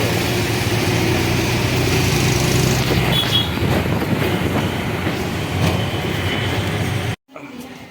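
A passenger train on the way to Ayodhya, a loud steady rumble from onboard with faint rail clatter and a brief squeal, cutting off abruptly near the end.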